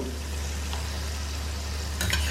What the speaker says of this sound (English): I'm going to fry the jimmy-kand in batches